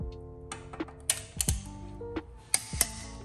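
A torque wrench tightens the wheel lug nuts on a Lamborghini Huracan, giving sharp ratcheting clicks and metallic clunks at irregular intervals, close and fairly loud in a quiet garage.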